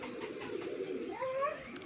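Pigeon chick cooing steadily and close by, a low soft coo with a rising call toward the end, heard alone with no voices.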